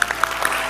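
Brief burst of audience applause for a singer on a singing talent show, scattered claps close together and moderately loud, with no talk over it.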